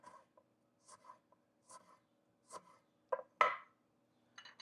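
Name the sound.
knife cutting lime into half moons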